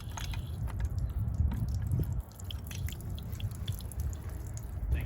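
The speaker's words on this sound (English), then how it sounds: "we'll start to drain our outdoor spigot" Water drains from an outdoor spigot at a seasonal restroom being winterized, a steady near wash of trickling and dripping with no voices.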